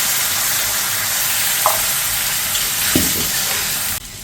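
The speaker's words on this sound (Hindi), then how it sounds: "तो अभी मैं टोमेटो पेस्ट को फ्राई करता हूँ अच्छे से।" A steady hiss of tomato paste and onion frying fills the clip, with a few brief clinks of a utensil stirring in the pan.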